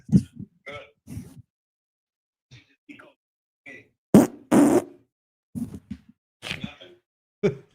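A fart during a two-man podcast recording: several short, loud, raspy bursts close to the microphone, spaced between quieter sounds, with a long sustained one near the middle.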